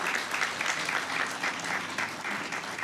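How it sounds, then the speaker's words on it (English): Sustained applause from a large crowd at a University of Georgia Griffin Campus spring graduation ceremony honoring the graduating candidates, a dense, even roar of clapping heard from a moderate distance. "Let's give all of our amazing candidates a well-deserved round of applause."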